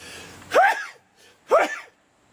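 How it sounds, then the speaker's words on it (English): Two sneezes about a second apart, each a sharp, loud burst with a rising breathy tone, close up with quiet between them. "I'm feeling like I'm going to sneeze here."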